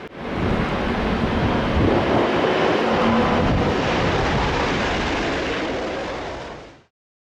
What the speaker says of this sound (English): this massive Airbus A380 aircraft made a hard landing while battling strong crosswinds